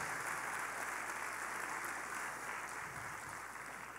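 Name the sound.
audience applause for the team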